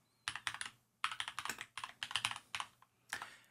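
Rapid clicking of computer keys in quick bursts with short pauses between, close and fairly quiet, with no voices.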